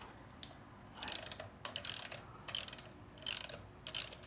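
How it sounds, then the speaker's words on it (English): A wrench ratchets in five short bursts on a nut of a Harley Davidson Road Glide shift linkage, each burst a quick clicking run with brief pauses between. "So I'm gonna go ahead, get my wrench on,"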